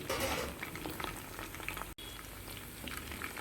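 Chicken 65 frying in hot oil while being turned, a continuous bubbling sizzle with soft stirring movements, fairly quiet and close, cut by a brief gap partway through, with no voices.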